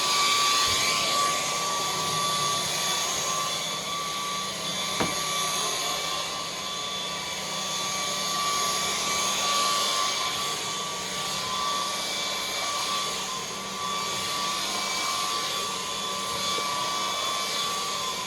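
A MOOSOO or Dreametech cordless vacuum cleaner runs steadily up close, a high whining motor drone with some shifting airflow noise and one brief knock.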